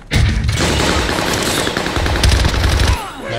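Rapid automatic gunfire rings out in a Call of Duty Zombies match, loud and dense with bursts overlapping almost continuously, briefly easing near the middle before another heavy volley.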